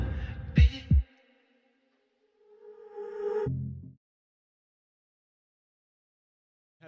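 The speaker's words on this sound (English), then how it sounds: "Just listen to the heartbeat." A heartbeat sounds as two deep, close thumps in quick succession near the start, followed by a soft swelling hum that fades into silence.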